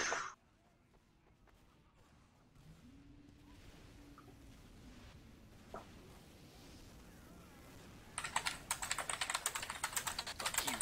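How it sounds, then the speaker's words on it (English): Fast typing on a computer keyboard during a Team Fortress 2 gaming session: after a quiet stretch of low background noise, a rapid, loud clatter of keystrokes breaks out near the end. "Sounds like Animal from Muppets on a keyboard."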